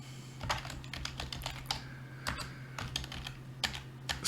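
Quick, uneven keystrokes clatter on a computer keyboard, typed in short bursts with brief pauses over a steady low hum.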